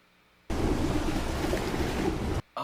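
Rushing water from a movie scene, a loud, dense broadband wash that bursts in suddenly and roars steadily for about two seconds before cutting off, followed by a brief faint sound.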